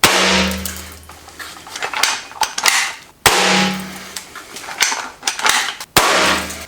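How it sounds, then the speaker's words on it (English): Paintball gun firing paintballs at automotive paint: several sharp, loud, close pops with hollow impact cracks, spaced irregularly over a few seconds. "Now the paintball gun"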